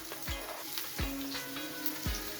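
Bell pepper hits a hot frying pan already cooking onion, giving a quiet sizzle punctuated by a few low thumps and clatters of the pan.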